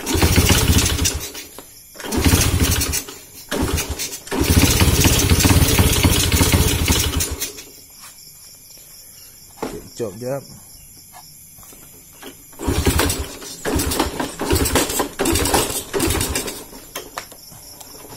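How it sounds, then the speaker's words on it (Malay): A Honda C70 motorcycle with a dusty carburetor filter and a trimmed piston is started. Loud, close engine bursts run in uneven stretches with quiet gaps, and brief speech is heard between them. "Kita hidupkan dulu motor ni."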